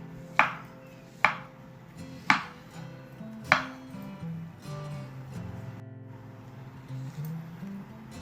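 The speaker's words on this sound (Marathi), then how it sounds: "असे बारीक फोडी करायचे" A knife chops chibud fruit sharply on a board, four crisp, evenly spaced strikes close by, followed by quieter handling noises.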